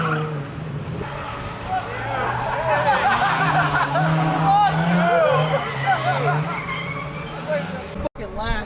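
A car locks into a wide second-gear drift slide, a loud sustained engine drone with tyre squeal running under excited crowd chatter and shouting, close and continuous before a brief cutoff near the end.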